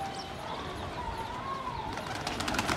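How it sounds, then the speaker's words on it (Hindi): A flock of racing pigeons being chased into flight above a rooftop, soft cooing and wing flutter mixed with faint chirps, distant and low in level against steady background noise. "देखिए भाई अब दौड़ाए जा रहे हैं कबूतर इधर से उधर"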